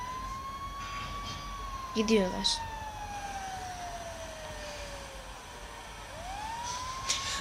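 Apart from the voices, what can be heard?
fire truck sirens in GTA 5 video game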